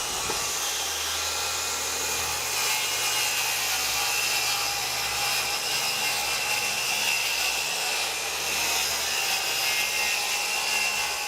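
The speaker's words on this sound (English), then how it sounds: "bring the saw back to square and make the cuts" A saw makes square cuts through wood while a roof is framed. The rough, steady sawing noise is loud and close and runs without a break for about eleven seconds, with no talk.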